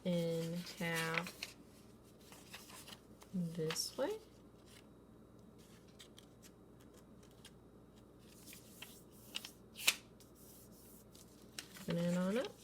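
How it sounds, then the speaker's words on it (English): A sheet of paper is creased and folded in half for a paper play house, making soft rustling and crinkling between stretches of speech. "The next thing that you're going to need to do is you are going to need to fold this paper in half"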